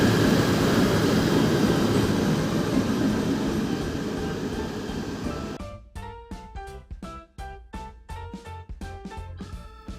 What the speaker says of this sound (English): the commuter train reversed and heading northward to Batu Caves